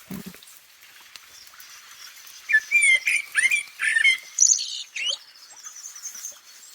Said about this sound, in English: my phone says those birds are the Eurasian blackbird